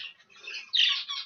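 Young birds being readied for a move from a nursery flight give harsh, high squawks, one clearly louder burst in the middle, close and with no talk.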